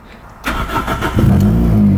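A Toyota Starlet engine in a garage, after standing unused for a long time, cranks and catches after a brief quiet moment, then settles into a loud, steady running note with no voices.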